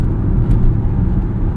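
Engine and road noise from a 2023 Dodge Hornet GT Plus AWD with a four-cylinder while driving, a steady low rumble that holds evenly throughout at close range, with no talking.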